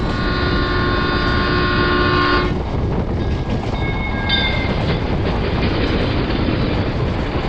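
A passenger train running on rails in India, with a loud sustained horn blast at the start giving way to a continuous rumbling roll of wheels and carriages, heard close from inside or beside the train.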